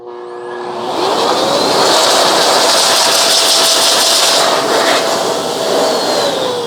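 A Pawaboo pet hair vacuum dryer runs on its heat setting, producing a loud, steady, powerful blowing roar with a whining motor tone that rises as it spins up and then holds.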